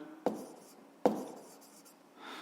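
Pen or pencil strokes on paper as a measurement is written down, two distinct scratchy bursts about a second apart with quieter rubbing between, close and alone without talk.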